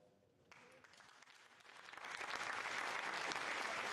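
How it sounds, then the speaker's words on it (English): A room at mission control breaks into applause after a satellite separates from an Ariane 6 rocket. The clapping starts softly and swells into dense, sustained applause. "More applause."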